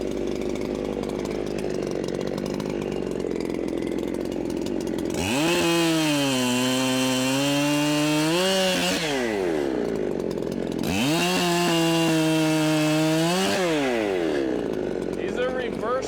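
A chainsaw revs up loudly twice, cutting a roadside log for firewood, each burst holding a high whine while cutting before dropping back to a low idle between cuts.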